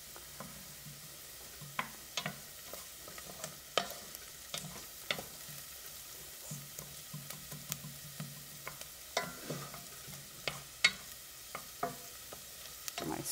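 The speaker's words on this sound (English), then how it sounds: "Seeds are just starting to pop a little bit" Quiet, scattered pops and ticks from seeds in a hot pan, irregular and sparse over a low background sizzle.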